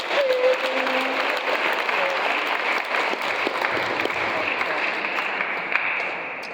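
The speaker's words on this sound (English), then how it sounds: "nice round of applause for our visitors showing up today" Steady applause from a crowd at a Job Corps graduation, dense clapping that holds for several seconds before tapering slightly, with a faint voice briefly audible at the start.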